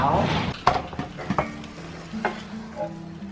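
Ice-flower pan-fried dumplings sizzle in a hot pan while a utensil scrapes and taps against it, giving a crackling frying bed broken by several sharp metallic knocks.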